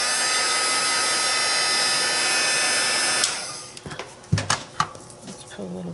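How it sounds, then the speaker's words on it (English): A loud, steady hair dryer blows for about three seconds drying wood stain on a small piece of wood, then cuts off, leaving light clicks and handling noises. "Hit it real quick with the dryer."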